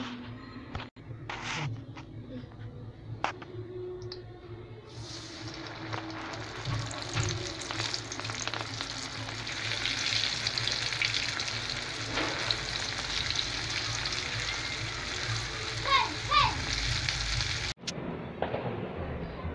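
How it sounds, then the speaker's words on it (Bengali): Kathi kebabs coated in flour frying in hot oil, a continuous crackling sizzle that swells louder midway, with a few sharp clicks and clatters at the start and a brief break near the end. "এখন আমি কাবাবগুলি ভেজে নেব।"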